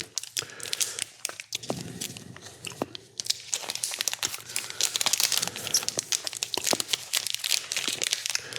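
Crinkly wrappers rustle and tear among close crunching of Halloween candy, with dense, irregular crackles continuing throughout and no talking.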